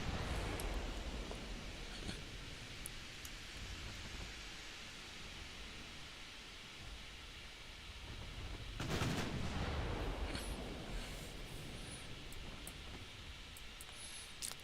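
Warship main guns firing in the naval strategy game Ultimate Admiral Dreadnoughts, a steady dense roar of broadband rumble with a louder burst of salvos in the middle, no talking.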